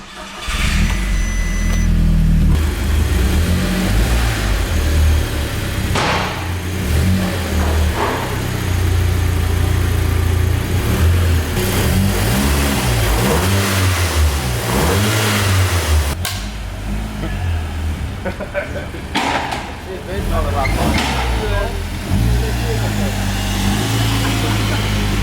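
A cheap Audi S3 with a freshly installed engine fires up for the first time and is revved repeatedly, the loud, close engine note rising and falling over about 25 seconds while people talk over it.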